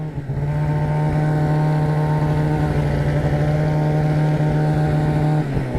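A Polaris RMK snowmobile engine runs at steady, loud throttle with a strong droning hum and a buzzing exhaust note, heard close from the rider's seat and holding constant until it eases off right at the end.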